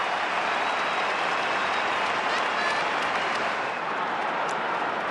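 A big stadium crowd at an Australian football match between Essendon and Port Adelaide roars and applauds after a goal, a dense, loud and continuous wash of cheering with a commentator's voice faintly beneath it.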